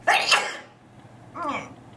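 A woman doing her makeup lets out a close, moderately loud sneeze, a burst of breathy noise, then after a short pause gives a softer voiced sound like a stifled follow-up or throat noise.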